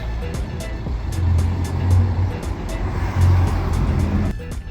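A car drives past on a street in Minsk, its low engine rumble swelling twice with a steady rhythmic ticking across the clip, close and fairly loud.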